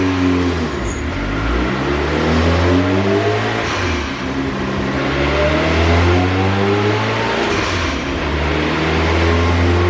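Dodge Neon ACR running on E85 and strapped down on a dyno, engine revving loud and close with rising and falling pitch sweeps through repeated pulls.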